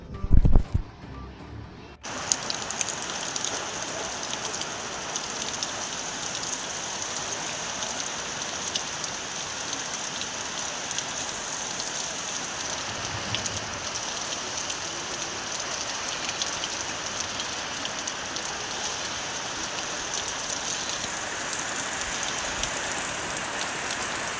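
Rain falls over the Nagarsul and Savkhede area near Yeola, a continuous even hiss of drops heard up close, after a short louder knock and rustle at the start.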